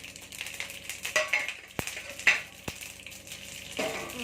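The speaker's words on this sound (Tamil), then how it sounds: "எண்ணெய் நல்லா காஞ்சதுக்கப்புறமா கொஞ்சமாக கடுகு சேர்த்துக்கோங்க அதோடு நம்ம எடுத்து வச்சுருக்க இந்த ஸ்பைசஸ் சேர்த்துக்கலாம்" Mustard seeds and spices sizzling in hot oil for an egg rice dish, a steady crackling fry with a few sharp pops and clinks scattered through, close and moderately loud with no voices.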